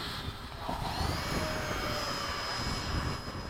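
An FMS radio-controlled model plane, a 70mm F/A-18 electric ducted-fan jet, flies overhead in formation with other RC warbirds, giving a steady whooshing whine that holds at the same loudness throughout.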